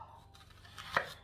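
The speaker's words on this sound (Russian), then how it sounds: "Лук должен быть нарубленный." A knife chops onion on a board in a home kitchen, a single soft thud standing out close by against faint room noise.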